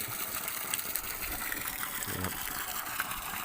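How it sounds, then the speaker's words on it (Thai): Water gushes strongly from a solar-powered pump fed by six mono panels totalling 1,100 watts, a steady dense rush running throughout with no pause. "น้ำก็แรงครับ แรงมาก"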